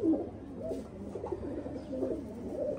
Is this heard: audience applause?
no